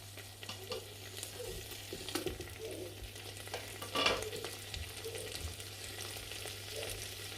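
Masala for mutton biryani, with tamarind, cooks in a pan with a steady close sizzle, broken by soft scraping stirs and one brief louder clatter.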